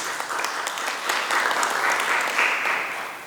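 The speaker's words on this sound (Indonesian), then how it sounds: "tepuk tangan dulu untuk Tuhan" Steady applause from a church congregation at a Christmas Sunday service, a dense wash of many hands clapping that continues without a break for a few seconds.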